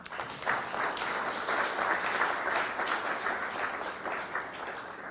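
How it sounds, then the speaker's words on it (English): Sustained applause from an audience at the second Mwai Kibaki memorial event fills the whole stretch, dense and steady at moderate distance, with no break and only faint crowd murmur beneath. "I think you clap for him again"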